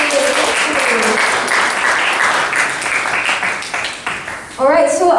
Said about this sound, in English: Shall we give him a round of applause for being here with us today?